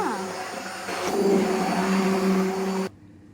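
A mixer grinder blends cooked toor dal soup in a kitchen in Kuwait, a loud, steady motor whir with a rising pitch that runs for about three seconds, then cuts off abruptly.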